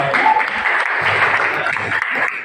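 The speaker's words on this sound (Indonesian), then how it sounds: "Oke, tepuk tangan lagi dong buat Bayu." Applause from a classroom audience cheering a student group after their presentation, a steady burst of clapping with a few voices mixed in.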